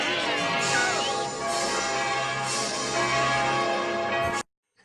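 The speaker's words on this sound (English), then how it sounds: "So play the bells again." Dense, continuous ringing of several bells with rich overlapping tones, loud and sustained for several seconds before cutting off abruptly.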